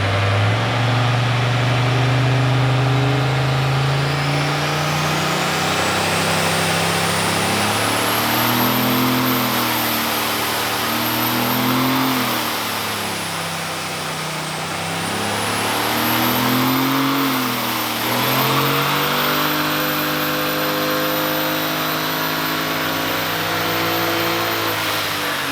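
A turbocharged SBE L98 V8 in an HQ Monaro runs hard on a dyno, loud and close, surging through several rises and falls in revs while a high turbo whine climbs and holds above the engine roar.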